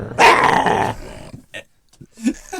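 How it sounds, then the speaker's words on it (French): A dog gives a short throaty growl, close and loud at the start, followed by a few faint snuffles and small vocal sounds. "C'est un chien, allez."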